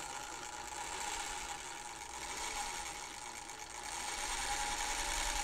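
A vintage pedal-operated sewing machine stitches continuously, giving a faint, steady mechanical whir with a slight rise in intensity toward the end.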